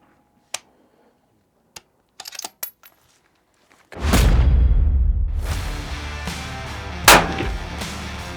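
A rifle fires match ammunition during precision rifle training: one loud, sharp report with a long echoing rumble, preceded by a few quiet clicks and handling taps, with another crack striking partway through the fading reverberation.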